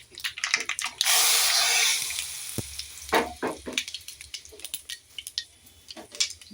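Hot oil tempering (popu) is poured into challa charu, a tangy buttermilk dish, giving a sudden loud sizzling hiss that fades after about a second, followed by scattered clinks and clatters of utensils.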